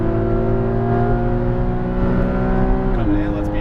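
A Porsche 718 Cayman GTS accelerating hard on a race track, its engine drone loud and steady as it climbs through the revs, with a shift near the end while an instructor talks over it.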